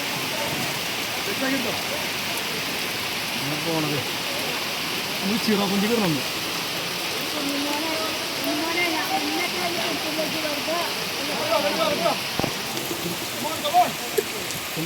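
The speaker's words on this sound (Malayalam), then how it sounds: "നമ്മൾ വർക്ക് തുടങ്ങിയ ഉടനെ മഴ പെയ്തിട്ടോ" Steady rain pours down in a continuous hiss while people talk intermittently underneath, with occasional knocks and clatter nearby.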